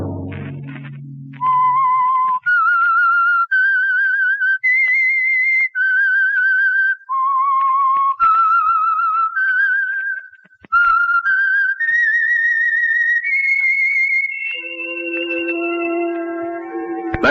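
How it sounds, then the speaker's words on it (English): The theme tune of The Whistler radio drama, whistled clearly and alone, a sequence of sustained notes rising and falling, ending on a held lower phrase. "Let that whistle be your signal"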